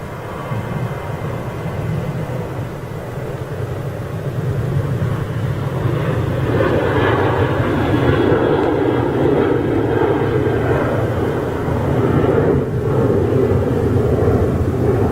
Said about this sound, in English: Here goes your KLM 737, folks.